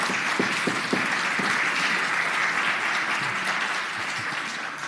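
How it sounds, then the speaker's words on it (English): Steady applause fills the gallery of the Virginia Senate chamber, a dense, even wash of many hands clapping that holds at a constant level for several seconds and tapers slightly at the end, with no voices over it. "You will get 2 rounds of applause."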